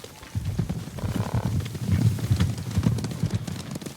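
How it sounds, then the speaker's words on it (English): Horses approaching in Ghost of Tsushima: a low, rumbling rhythmic pounding of hooves that builds and stays steady, with gritty, wild-sounding noise layered over it and no talking. "Horses, they're coming for us!"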